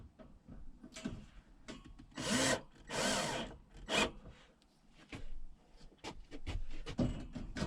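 New screw holes being drilled while fitting shelves: two short, loud bursts of drilling, with quieter scraping and handling sounds between them and around them, close by.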